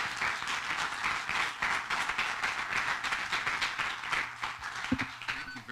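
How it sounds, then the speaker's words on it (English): Audience applause fills a conference session on digital amateur radio, a steady dense wash of clapping held at an even level throughout, with a few louder individual claps near the end. "Big round of applause."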